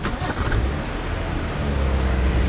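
A car in the video game GTA drives off, a steady loud engine drone with low rumble running continuously throughout, no talk over it.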